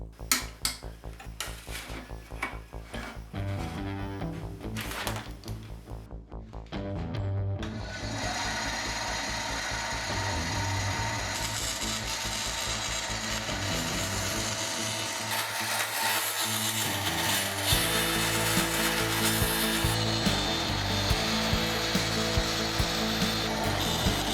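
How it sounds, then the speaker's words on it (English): Wenge wood veneer being roughly cut to shape for a guitar headstock on a bandsaw, a dense steady mechanical buzz and rasp of the blade that starts with a sputter, then runs continuously and loudly. "so that's the veneer roughly cut to shape."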